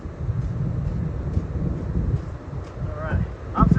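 Strong hurricane wind buffets the microphone outdoors on a golf course, a steady low rumbling roar with gusty swells that grow louder near the end, with a brief voice at the close.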